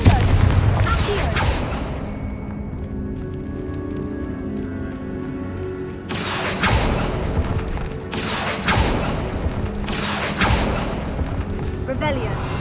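Confringo fire spells from the Hogwarts Legacy video game blast out in a series of loud, broadband bursts: two quick ones early, then several spaced explosions later, over a steady rumbling game backdrop.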